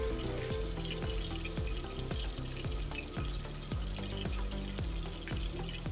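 Peshawari chapli kababs fry in a pan, a constant oily sizzle layered with a steady rhythmic knocking or scraping beat, no one talking.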